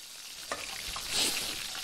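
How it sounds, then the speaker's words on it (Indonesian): Fish roe fries in a pan in a cartoon kitchen, a bright, steady sizzle with a louder hissing burst midway and a few soft stirring scrapes. "Apa yang kau goreng tu? Telur ikan."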